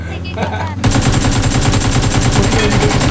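Sniper gunfire in a battle royale video game: after a brief quiet moment, loud, rapid, dense shots burst in and continue steadily to the end, close and harsh, with faint voices in the background.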